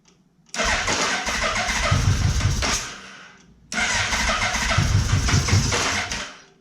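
Two loud starts of a Yamaha Vmax motorcycle engine after a carburettor refit, each catching and running for about three seconds before cutting out, separated by a short quiet gap.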